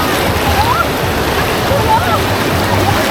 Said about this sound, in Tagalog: Lakas ng agos guys.